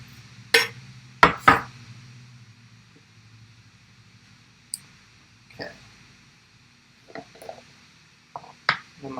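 Jalapeno slices dropped into a pan one by one, giving a scatter of sharp, close clicks and taps with quiet gaps between them.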